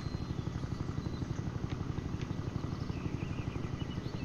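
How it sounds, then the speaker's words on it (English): A helicopter's rotor in a video game thumps in a fast, steady rhythm with a low engine drone, continuous and fairly distant, with no voices. "I actually see a helicopter."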